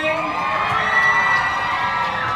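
A dense crowd cheers and claps at a launch event for Minere's recycled-plastic eco bottle, with a steady, loud wash of voices and hands and some tonal music-like lines running through it.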